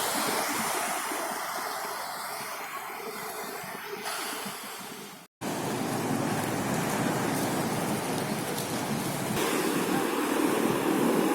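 Surf washes ashore at Gandoriah beach in West Sumatra, a broad, continuous roar of waves that cuts out abruptly for a split second midway and then resumes slightly louder.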